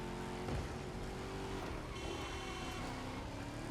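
A 1187 hp Hellcat's engine roars continuously in a racing video game, a dense, steady drone with shifting pitch and a brief tire-squeal edge, with no voices.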